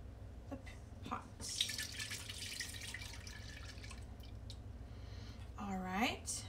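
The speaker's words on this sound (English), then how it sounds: "Can you pour the 2 cups into the pot?" Milk being poured into a pot while making fresh ricotta cheese in a home kitchen, a steady liquid rush lasting a few seconds amid light clatter, with a voice speaking near the end.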